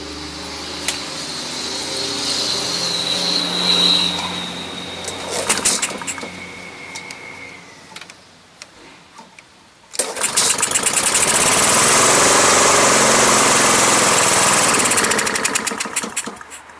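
A Honda lawn mower that had sat unused for years, with Stabil in its fuel, sputters and coughs, then catches and roars into a loud steady run close by.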